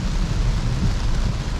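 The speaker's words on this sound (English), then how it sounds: "This is the worst rain it's been in since I've got the update" Very heavy rain drums and roars around a Tesla while it drives, a dense rumbling wash of water and road noise with no talking.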